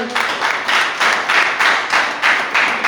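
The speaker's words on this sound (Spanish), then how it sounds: "aplauso al Señor" Steady rhythmic clapping from a church congregation, with claps landing in unison at a brisk, even beat and no voices over them.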